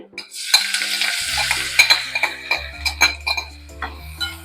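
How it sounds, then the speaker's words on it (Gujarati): Spring onion and a pinch of asafoetida sautéing in hot oil, a steady sizzle with repeated sharp clinks and scrapes of a spoon against the pan; a low hum runs underneath. "તેલ ગરમ થઈ ગયું છે. તેમાં આપણે પિંચ ઓફ હિંગ નાખી અને સ્પ્રિંગ ઓનિયન"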